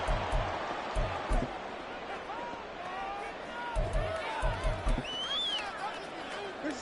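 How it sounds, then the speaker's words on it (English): Stadium crowd noise in an EA Sports football video game, Texans vs Browns: a steady roar of many voices with whistles and shouts, interrupted by several dull thumps. "this crowd is making an impact right now"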